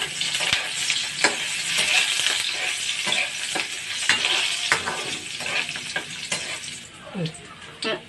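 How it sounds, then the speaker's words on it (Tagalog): Chopped garlic and onion sizzle in hot oil in a pan as the base for Filipino pork adobo, with a steady crackling fry broken by the scrape and clatter of stirring. "igisa na po natin ang ating bawang at sibuyas"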